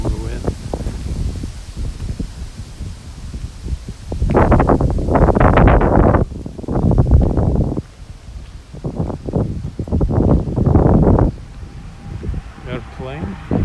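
Strong wind gusts through trees on a windy day in Tokyo, Japan, arriving in loud repeated bursts that buffet the microphone, with calmer rustling between them.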